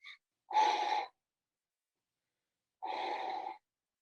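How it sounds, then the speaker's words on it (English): Calm, slow, deep breathing: two long, airy breaths heard up close, separated by a stretch of silence, with no speech. "she just taught me to breathe calm"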